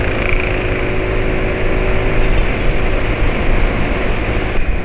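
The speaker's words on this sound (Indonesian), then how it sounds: "Suara trot yang kayak gini kalau bisa dengar." A motorcycle engine runs close by with a loud, steady, throbbing trot-like pulse and no pauses or voices throughout.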